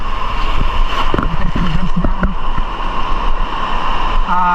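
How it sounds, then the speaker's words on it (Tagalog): Big ocean waves driven by strong wind during shore fishing, a steady loud broadband wash of surf and wind filling the whole stretch, with faint scattered low thumps and no speech. "Malalaking alon."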